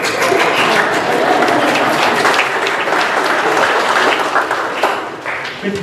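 Members of a Buddhist church congregation clap warmly for a frog puppet being introduced, a loud, unbroken spread of applause from a roomful of people that eases slightly near the end.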